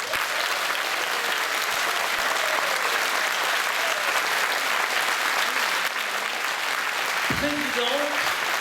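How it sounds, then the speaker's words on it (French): Thunderous applause from a radio talent-contest audience in Bain de Bretagne greets Caroline Loeb, dense sustained clapping filling the room, with a voice briefly cutting through near the end. "Un tonnerre ce soir d'applaudissements."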